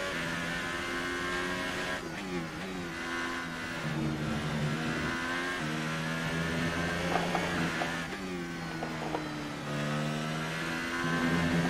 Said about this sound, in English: Just hearing some engine noises.